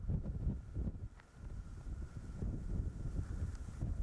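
Wind gusts along the coast at Port Nolloth, buffeting the microphone in low, uneven rumbles.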